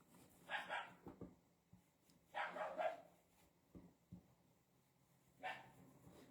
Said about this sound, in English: That's what dogs do, isn't it? They bark.